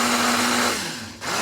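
A blender whirs loudly and steadily, its motor pitch dropping and the roar easing before briefly swelling again; no one speaks.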